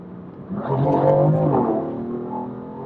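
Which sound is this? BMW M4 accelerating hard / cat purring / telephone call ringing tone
BMW M4 accelerating hard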